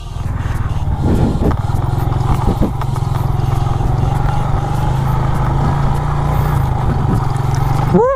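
A motorcycle engine chugs loudly and steadily up close, its low rumble constant throughout, with a few rattling clatters and a rising rev at the end.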